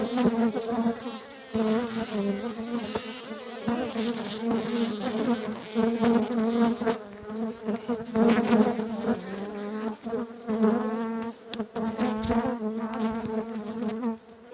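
Honeybees swarm thickly over hive frames during a spring hive inspection, making a dense, continuous buzzing that wavers in pitch and stays close and steady throughout, with no talk.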